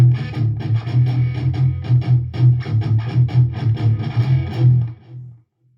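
Guitar playing the opening riff of a song in drop D, a rapid pattern of short distorted muted notes in a driving rhythm, close and clear with no talk, ending in a brief silence.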